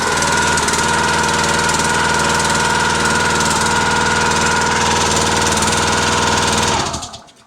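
A Kohler small engine on a log splitter, running loud and close with a steady throttled drone and a rapid rhythmic chug, then cutting off abruptly near the end.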